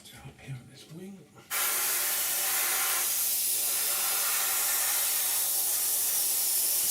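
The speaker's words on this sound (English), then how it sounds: "So I'll just carry on spraying this first coat on" Steady loud hiss of an airbrush spraying the first coat of paint onto a Revell 1/72 Transall model aircraft, starting abruptly after a brief stretch of quiet low sounds and continuing unbroken.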